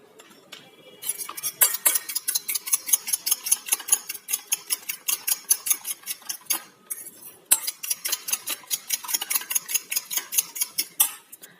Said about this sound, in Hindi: तो इसको हम अच्छी तरह से मिक्स कर लेंगे